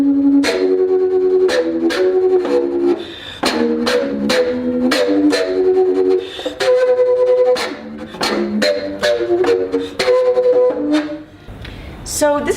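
A bass flute played with overblown low notes in a gritty, distorted, electric-guitar-like tone. Short punchy phrases repeat with sharp breathy attacks, close and loud, and no one speaks over them.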